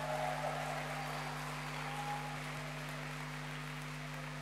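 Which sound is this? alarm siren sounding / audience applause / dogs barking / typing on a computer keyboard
audience applause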